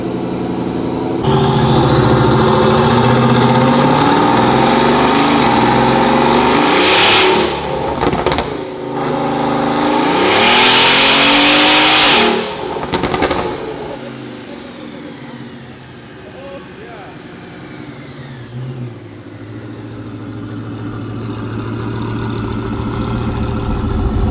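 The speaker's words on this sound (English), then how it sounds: "The cold start on this thing is absolutely wicked." A flood-damaged Bugatti Veyron under rebuild cold-starts with a loud roar, sends up several sharp rev blips, then eases down to a lower, steadier idle.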